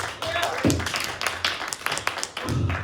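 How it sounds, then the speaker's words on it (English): A crowd at an outdoor poetry and music night claps in a loose round of applause, scattered hand claps rising and falling, with brief talking mixed in near the start and end. "a round of applause for Derrick before he reads."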